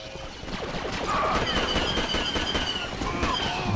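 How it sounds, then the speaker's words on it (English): Turret gunfire in a Star Wars Battlefront battle, rapid continuous blaster bursts rattling for several seconds over a busy, noisy combat backdrop, fairly loud and steady. "Stupid turrets, man."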